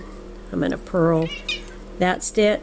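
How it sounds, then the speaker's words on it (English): A blind house cat meows repeatedly for a treat, several short plaintive cries in quick succession close by, while someone talks over them during a knitting session. "My cat wants a treat. If you can hear her, she's crying for it."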